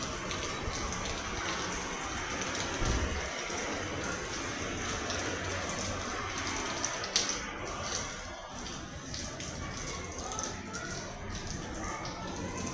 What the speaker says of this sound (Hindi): ये देखिए कितनी तेज़ बारिश हो रही